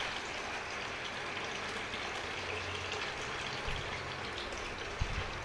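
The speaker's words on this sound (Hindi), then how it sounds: "और ये गंदा पानी निकल जाएगा इससे।" Dirty water drains out of the recovery tank of a C 3450 auto scrubber dryer, a steady trickling, splashing flow heard close and continuous, with a couple of faint low knocks near the end.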